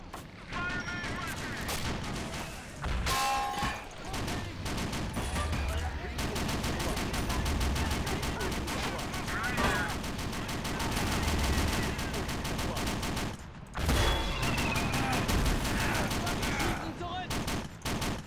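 Heavy .50 cal machine gun fire in the Men of War: Assault Squad 2 war game, loud sustained bursts mixed with explosions and battlefield gunfire running almost unbroken, with a short lull near the middle.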